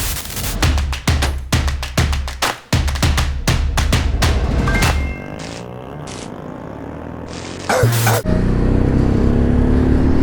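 A vehicle leaving a police traffic stop is revved hard in quick repeated bursts, then accelerates away with a loud close engine roar, rising strain and wind noise as voices talk inside.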